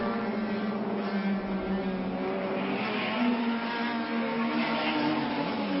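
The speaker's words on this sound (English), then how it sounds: "It's got kind of all the nibble handling of a Lotus 11, but with a twin cam Climax FPF engine upon it." A Lotus 11-type sports racing car with a twin cam Climax FPF engine, probably 2 litre, roars steadily at high revs through a corner at a historic race, the engine note rising and falling over about six seconds.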